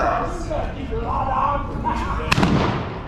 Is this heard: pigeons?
no